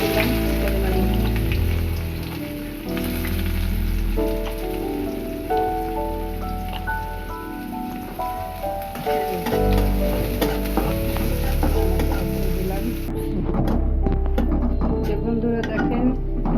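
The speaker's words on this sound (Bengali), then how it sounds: "পেঁয়াজটা লাল করে একটু ভেজে নিলাম ভাজির জন্য।" Onion browning in oil in a pan for a Bengali Malabar spinach (pui shak) stir-fry, giving a steady, close sizzling and crackling with occasional stirring scrapes, continuous throughout.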